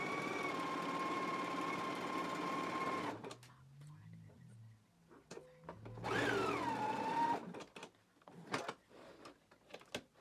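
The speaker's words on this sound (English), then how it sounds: "we can go ahead and stitch them in place" A sewing machine stitches darts in a knit dress, its steady whirring drone running for a few seconds, then stopping before a second short burst of stitching, with quiet handling noises in between.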